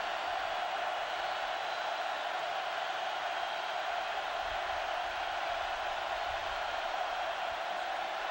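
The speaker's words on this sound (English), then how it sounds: "Crowd comes alive." Stadium crowd at a 2002 Miami vs Florida college football game, a continuous, even roar of many voices that holds at steady volume without distinct peaks.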